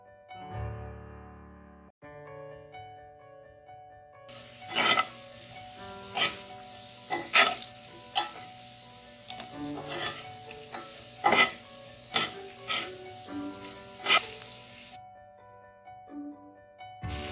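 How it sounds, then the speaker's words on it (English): Spices and potatoes being stirred and fried in a pan for aloo matar sabji, with repeated sharp scraping strokes of the spoon in an irregular rhythm over a soft sizzle. "So we have to mix all the spices in the potato. And make sure that the spices should not burn."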